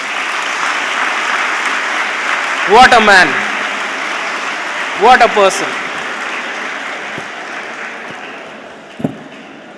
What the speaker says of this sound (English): One round of applause for Sanju Samson